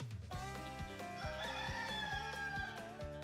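A rooster crows in the WHBN Harrodsburg "the Rooster" station jingle, a drawn-out harmonic call over a steady rhythmic music bed with a regular bass pulse, loud and continuous throughout.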